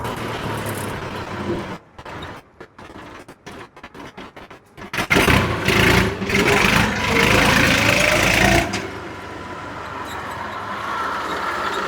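A Ford 3230 tractor engine runs steadily nearby, its low rumble broken at first by choppy gaps, then swelling louder for a few seconds before settling back to a steady idle.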